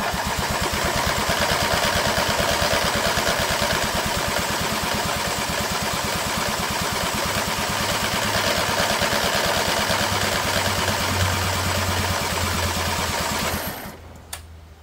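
A 1983 John Deere 116 lawn tractor engine cranks over on the starter, a loud, rapid, rhythmic churning that continues steadily for most of the clip before cutting off near the end without catching.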